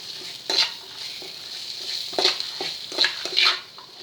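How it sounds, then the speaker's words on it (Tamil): Vegetables and masala for masala oats sautéing in a pan on high flame, a steady sizzle broken by several short scraping stirs of a spoon against the pan. "கொஞ்சம் ஹை ஃப்ளேமில் வச்சு நம்ம வதக்கிக்கலாம்"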